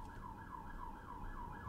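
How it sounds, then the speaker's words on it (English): An ambulance siren passes in the background, its wailing tone rising and falling steadily and heard fairly faintly at a distance without any talk. "we got an ambulance going by in the background"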